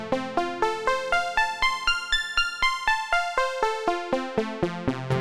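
A synth arpeggiator runs an up-down pattern without repeating the top and bottom notes, giving clean plucky notes in an even pulse that climb and fall over a few bars, heard alone.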